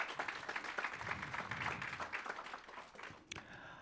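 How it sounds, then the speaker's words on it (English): Audience applause at a national planning indaba and young planners awards session, a fairly faint, dense patter of many hands clapping that thins out toward the end. "Can we just give them a hand of applause?"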